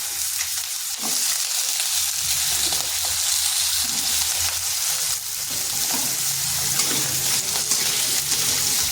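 Thin, long-cut potato strips fry in oil over medium heat, giving a steady, loud, close sizzle that runs unbroken throughout with faint stirring.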